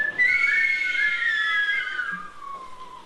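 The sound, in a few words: person imitating whistling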